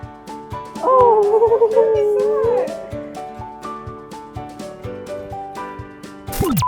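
A little dog lets out a wavering, rising-and-falling howl with whimpering inflections for about two seconds, heard over steady background music that carries on after the howl stops.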